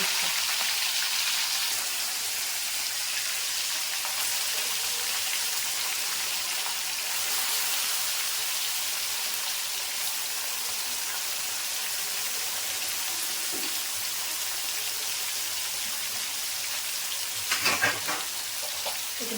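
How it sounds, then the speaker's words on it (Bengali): Fish frying in hot oil in a kadai for a Bengali cauliflower fish curry: a steady, dense sizzle runs throughout with no talk, swelling briefly with a sharper crackle near the end. "তেলটা আমার গরম হয়ে গেছে, মাছগুলো ছেড়ে দেবো।"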